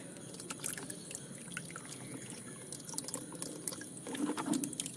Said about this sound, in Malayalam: ഇതിന് ബാക്കി വെള്ളം കൂടെ ചേർക്കാം